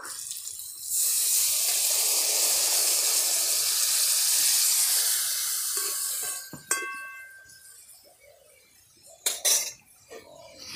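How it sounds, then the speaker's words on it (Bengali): Water pours into a pot for boiling potatoes, a loud hissing gush lasting several seconds near the start, then clinks of the pot and lid, with no talk. "নেড়ে নিয়েছি, এবার সেদ্ধর জন্য জল দিয়ে দেব"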